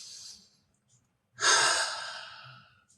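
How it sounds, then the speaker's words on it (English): A single deep breath drawn in and slowly released, close and breathy, standing alone after a brief quiet pause with faint background hum. "Take a deep breath."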